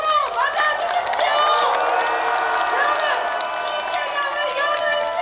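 A dense crowd cheers, whoops and claps at a Democratic Party campaign launch rally in Gwanghwamun, a continuous loud roar of many voices and applause.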